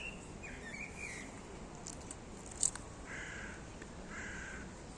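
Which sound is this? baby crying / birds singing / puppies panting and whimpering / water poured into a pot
birds singing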